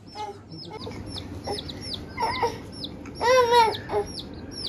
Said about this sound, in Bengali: এইটাই দেখো দুটো মুরগি আছে